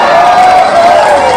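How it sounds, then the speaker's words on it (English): Football crowd in Grant County at a varsity high school game, roaring steadily with cheers and applause after a fourth-quarter score announcement; a dense, sustained wash of noise with no pauses. "That announcement got a pop from the crowd here in Grant County"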